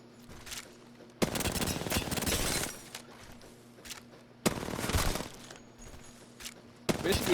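An R99 submachine gun fires in the Apex Legends video game in two loud, sustained automatic bursts of rapid rounds, separated by a stretch of quieter game ambience with faint scattered clicks.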